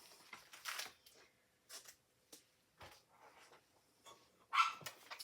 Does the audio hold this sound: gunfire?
no